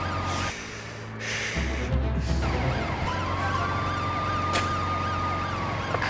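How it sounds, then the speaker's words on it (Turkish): An ambulance siren wails up and down in repeating sweeps, rising over a low engine rumble and growing loud and close as it approaches a petrol station. "Benzinliğe ambulans geliyor."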